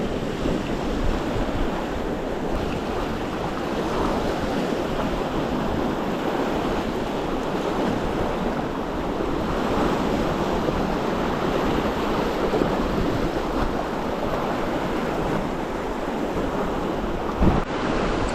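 Strong wind buffets the microphone on a bass fishing trip by the water, producing a constant loud roar that lasts throughout and runs over soft surf-like background noise.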